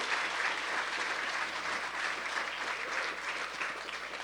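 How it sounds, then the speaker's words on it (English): A conference audience at the Hackaday Supercon badge hacking ceremony claps steadily, a dense, even wash of applause that holds for several seconds without pause. "let's hear a big round of applause for everyone that solved the badge puzzle"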